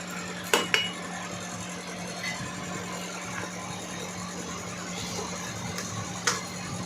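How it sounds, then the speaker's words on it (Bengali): Kochu saag (taro leaves) stirred in a pan, with a few sharp metal clinks of a spoon against the pan over a steady low background hum. "এদিক ওদিক করে ভালোভাবে নাড়াচাড়া করতে হবে যাতে শাকটা না পুড়ে যায়"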